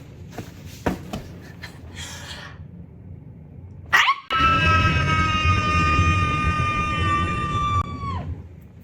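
A woman lets out one long, loud scream indoors, sustained for about four seconds before cutting off, preceded by some brief rustling and a sharp intake.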